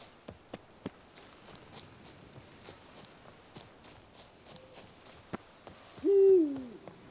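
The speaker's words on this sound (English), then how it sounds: "it's a loud owl." An owl in The Witcher 3 gives a single loud, close hoot near the end, after a stretch of faint clip-clopping hoofbeats.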